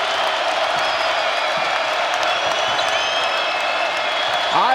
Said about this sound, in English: And here's the crowd.